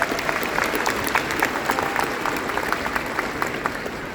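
A large graduation audience at a Texas A&M ceremony applauds with dense, sustained clapping that stays even throughout, with no voices over it.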